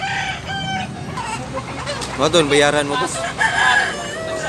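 Roosters and hens at a Cebu poultry market crow and cluck close by, with several strained, wavering crows over a background of chatter and voices talking.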